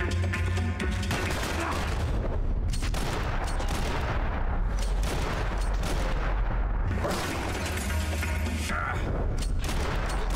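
Dense, continuous gunfire from Max Payne 3 fills the whole stretch, loud bursts and rattling shots layered with booming impacts, with no pauses.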